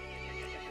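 A short horse whinny in the video game Resident Evil Village, with a tonal, wavering cry over a steady background hum, brief and fairly close.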